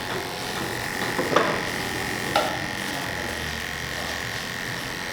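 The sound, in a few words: electric hair clippers with 08 blade cutting hair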